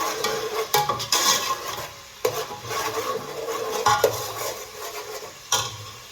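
Meat and onions stirred in a pot for a meat bhuna with moong dal, with repeated scraping and clinking of a spoon against the pot over a low sizzle, close by, with no voices.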